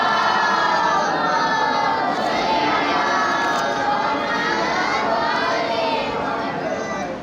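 Crowd at a religious gathering chanting salawat together in response to a call, a dense sustained mass of many voices filling the whole stretch, loud and continuous before tapering slightly at the end.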